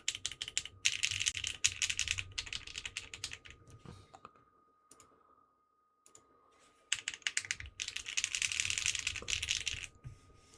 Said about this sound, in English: But the classic V2U clack on the upstroke.